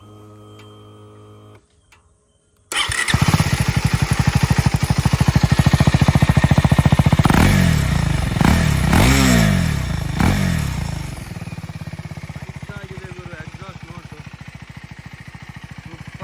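A KTM Duke 390 Gen 3 motorcycle with an underbelly exhaust beneath the engine starts up loud and close, revs sharply several times, then settles into a steady, lumpy idle.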